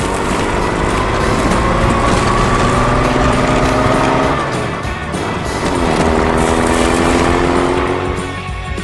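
An excavator works a construction site with a loud, continuous engine drone and a strained whine. The pitch sags and recovers midway, with no voices.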